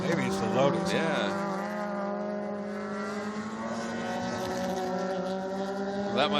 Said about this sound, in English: You can definitely hear it misfiring.